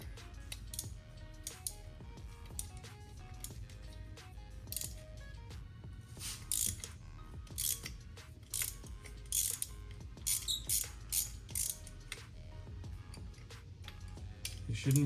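Ratchet clicking with a 14mm thin spark plug socket on the B58 engine of a 2017 BMW 540i, quick repeated pawl clicks and metallic taps running steadily over a low mechanical hum, fairly close.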